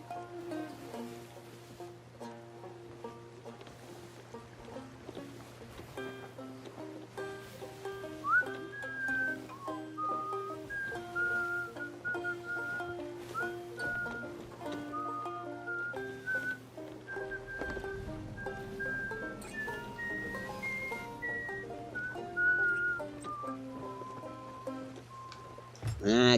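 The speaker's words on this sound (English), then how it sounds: "Sorry if that whistling came out too loud." A person whistles a melodic tune close into a microphone, sustained clear notes gliding between pitches over a low steady background hum, with faint game ambience and no speech.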